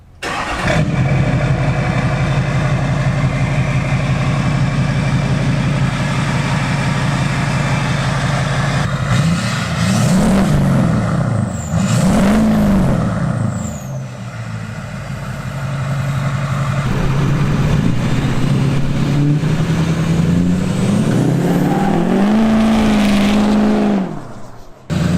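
Duramax diesel pickup with modified up pipes, idling loudly before revving in several surging pulls with a deep throb and turbo whine, then settling and climbing again as it drives.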